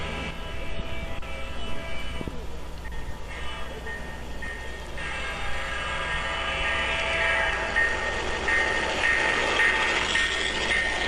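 Model train running on an outdoor garden railroad in Sun City Grand, Surprise, Arizona, a steady rolling rumble with a thin whistle tone, gradually growing louder.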